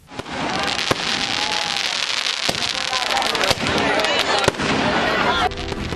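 Dense crackling and popping of Diwali fireworks fills the air, with sharp louder bangs standing out now and then against a constant fizzing roar.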